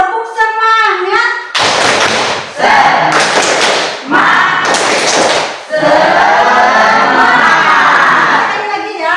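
A classroom of students performs the rhythmic 'tepuk semangat' clapping chant, loud bursts of clapping mixed with shouted group voices in several phrases, preceded by a teacher's voice.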